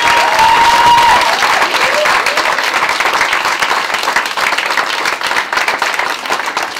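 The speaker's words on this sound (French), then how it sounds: "on peut les applaudir." Audience applauding the Le Wagon Lyon coding bootcamp team, loud dense clapping from a full room that gradually thins into more scattered, individual claps toward the end.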